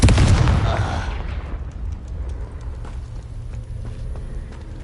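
A Confringo blasting spell explodes in Hogwarts Legacy, a single loud boom up front that decays into a rumbling tail and quieter crackling debris.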